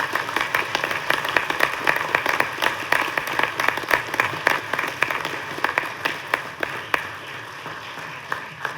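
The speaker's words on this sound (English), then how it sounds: "Can we please give her a round of applause?" A legislative audience gives a round of applause for the state's First Lady, a lively crowd clapping steadily with scattered close sharp claps, fading slightly toward the end.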